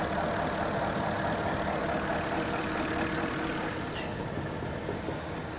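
A Pontiac Solstice engine idles steadily with a dense, even hum, then is switched off near the end, leaving the sound noticeably thinner and quieter.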